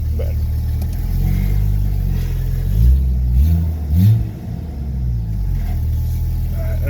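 A car engine idling steadily outdoors on a home start, a close, loud low rumble with a couple of brief revs near the middle, running smoothly without talk.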